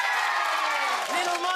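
A studio audience on a children's TV show cheers and claps for a guest, a brief, steady burst of crowd noise heard a little distantly under a presenter's voice.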